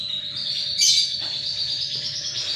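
Lovebirds chirp in quick, bright, close bursts, sharp repeated tweets over a thin steady whine, with one louder shrill flurry near the start and no talking.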